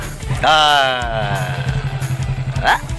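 A motorcycle carrying two riders revs and pulls away, its engine note rising sharply then settling into a chugging rumble, with people talking over it.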